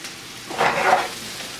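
Peppers sizzling in a pan over medium-high heat, a soft broadband frying hiss that swells for about half a second mid-clip before settling back to a low, steady crackle.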